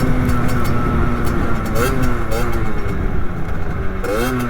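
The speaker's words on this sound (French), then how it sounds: "Là je rétrograde, encore une fois, là je suis en première." A 50cc scooter or moped engine drones steadily at close range, its pitch dropping and rising again as the rider shifts down through the gears toward first, with a voice talking over the engine noise throughout.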